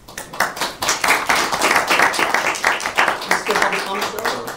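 An audience at a college academic senate meeting applauds with a steady, moderately loud patter of clapping hands lasting several seconds, with voices faintly underneath.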